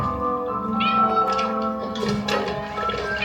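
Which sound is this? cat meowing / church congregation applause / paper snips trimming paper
cat meowing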